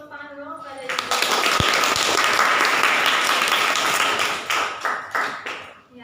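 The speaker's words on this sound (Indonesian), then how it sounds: "sebelumnya beri tepuk tangan dulu kepada Ibu" Audience applause after a presentation on writing scientific papers: a voice speaks briefly at the start, then a crowd breaks into steady clapping that swells, holds, and thins out into scattered claps.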